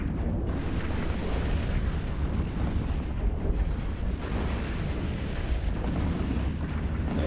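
Dense, continuous rumble of weapons fire and explosions from an EVE Online mass fleet battle on a test server, a steady loud wash of booms and bursts with no clear breaks and no talking.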